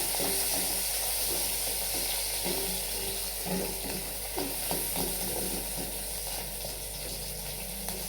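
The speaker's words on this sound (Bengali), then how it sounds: "তার মধ্যে দিব পেঁয়াজ পেঁয়াজ দিয়ে ভালোভাবে নাড়াচাড়া করবো" Onions, freshly added to hot oil in a home kitchen pan, sizzle and fry steadily while being stirred, a continuous close hiss with faint scraping throughout.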